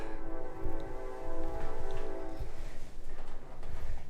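Train passing outside an old house, its horn sounding a long sustained tonal blast while wheels and engine rumble low and heavy, the horn stopping halfway as the rumble carries on, heard from indoors.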